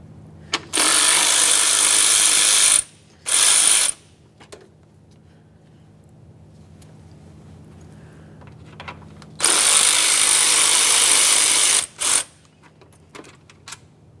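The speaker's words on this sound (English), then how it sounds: "Now we can start removing the two 10mm headed bolts that hold our AC fan to the radiator." Power ratchet or drill taking out the 10mm bolts that hold the AC fan to the radiator of a 1994-1997 Honda Accord 2.2L, in two loud whirring bursts several seconds long with short blips and quiet pauses between.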